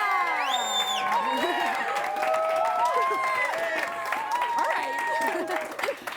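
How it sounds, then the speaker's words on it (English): A crowd applauds and cheers loudly throughout, with whoops and high excited shouts rising over steady clapping. "If you think it was Alyse, give it up."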